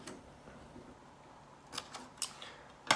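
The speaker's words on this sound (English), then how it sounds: "Then I always take my scissors and I cut about a 1 inch aileron" Scissors snipping into a folded paper airplane to cut small ailerons, a few quiet, short crisp cuts standing out near the end against a faint, otherwise still background.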